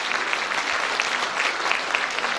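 Dense, even clapping from an audience at a city town hall meeting in Incheon, a steady wash of applause with no voices over it.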